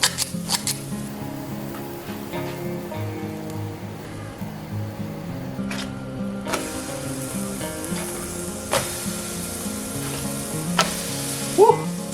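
Banana pancakes with chocolate chips fry in a pan with a steady soft sizzle, punctuated by a few sharp spatula taps and scrapes, heard up close without speech.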